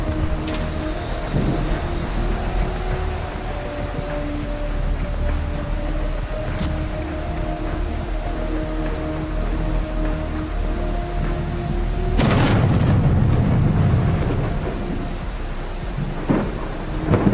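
Steady rainfall with a low rumbling roll of thunder on a stormy coast in a video game; the rain runs continuously, and a louder thunder burst swells near the end.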